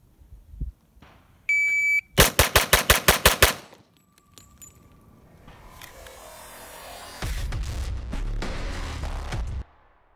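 A Glock 41 pistol in .45 ACP fires a rapid string of about eight loud, close shots in a drill at a 7-yard range, preceded by a brief electronic beep from a shot timer, with range noise after.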